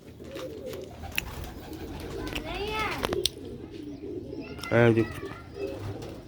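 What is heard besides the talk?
quail calling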